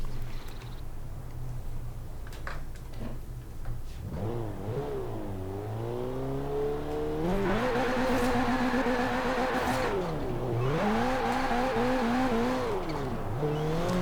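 Honda Civic Type R accelerating hard on a highway at night in Forza Horizon 4, engine pitch climbing through the gears with brief dips at each shift, loud and steady, with no talking.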